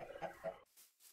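Chickens in the Minecraft Galacticraft mod, giving a couple of short clucking calls at low level, then a quiet stretch with faint breathy noises.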